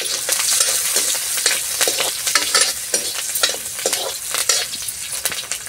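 Onion, garlic and green chili sizzle and crackle steadily in a hot pan, with scraping stirring strokes throughout, close and fairly loud.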